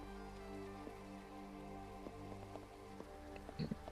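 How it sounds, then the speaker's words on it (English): Light rain falling in a city-street video game scene with trams: a faint, soft patter of drops spread evenly over a low steady hum, with a few quiet taps near the end. "I have light rain at the moment."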